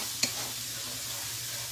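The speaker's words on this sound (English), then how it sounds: "we added those onions and peppers in there. They're really getting caramelized." Onions and peppers sizzle and caramelize in a pot with a steady, soft frying hiss, broken by one quick stir or pop near the start.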